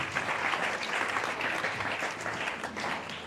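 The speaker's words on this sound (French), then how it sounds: "Applaudissons très fort pour le Seigneur." Church congregation at a French-language service in Nkombo applauding strongly, dense continuous clapping filling the room throughout with no one speaking over it.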